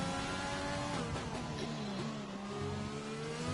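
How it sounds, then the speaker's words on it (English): A McLaren race car in a racing video game downshifts into fourth gear, its engine note steady and droning with shifting revs, loud and continuous, with no talk over it. "Down into 4th gear to get that rotation on that McLaren."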